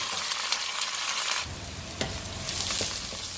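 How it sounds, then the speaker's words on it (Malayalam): Chopped garlic, about a tablespoon, sautéing in a pan for a Malayalam home-style meal: a steady close hiss and crackle of frying with a few sharp clicks of a spoon stirring against the pan, no voices. "1 ടേബിൾ സ്പൂൺ വെളുത്തുള്ളി ഇട്ടൊന്ന് ചെറുതായിട്ടൊന്ന് വഴറ്റുക"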